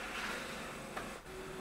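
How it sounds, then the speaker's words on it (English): HP DeskJet 4255e printer feeding and scanning pages one by one, a steady mechanical whir and hum up close, with a brief clack and then a constant motor tone. "The printer will take one by one each pages."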